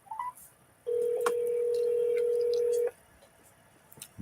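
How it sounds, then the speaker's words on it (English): Phone dialing on speakerphone: a few short tones, then a single steady ringback-style tone held for about two seconds, loud and clear, followed by quiet room noise. "Calling speakerphone."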